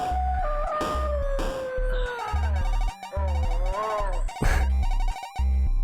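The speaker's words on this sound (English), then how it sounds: "exact howl." Retro video game howl from Manos: The Hands of Fate, a long wavering dog-like howl rising and falling over chiptune-style music with pulsing bass notes, loud and close throughout.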